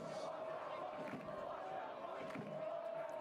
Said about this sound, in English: Crowd chanting for a block punt.